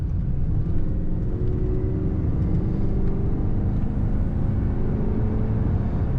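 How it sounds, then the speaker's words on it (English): From inside a light cream 1995 Cadillac Sedan DeVille as it accelerates, a steady low engine rumble and road drone hold evenly and fairly loud throughout, with no one talking. "Good acceleration in this car."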